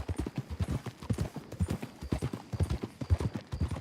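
Horse hooves clip-clopping with a horse and cart in the video game Red Dead Redemption 2, a rhythmic steady trot heard up close throughout.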